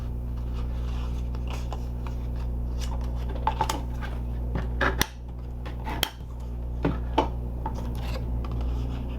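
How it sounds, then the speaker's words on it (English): Paper card for a holiday sweets box is folded along its score lines and burnished, giving a series of soft rubbing and scraping strokes with a few sharp creasing snaps, close by over a steady background hum. "Let's go ahead and fold and burnish the score lines for the inside tab piece."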